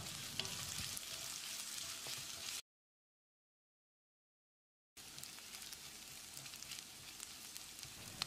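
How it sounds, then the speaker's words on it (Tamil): Onions with curry leaves sizzle steadily in a hot pan, a soft crackling hiss broken by a few seconds of complete silence before the frying resumes. "கொஞ்சமாக கருவேப்பிலையை சேர்த்து வெங்காயத்தை பொன்னிறமாக வதக்கிடலாம்."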